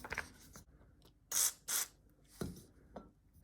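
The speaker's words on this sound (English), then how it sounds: "we're just going to spray in with a little bit of WD-40" Two short, sharp hissing sprays from a WD-40 aerosol can into exercise bike wheel bearings, close by, separated by a brief pause, with faint handling clicks around them.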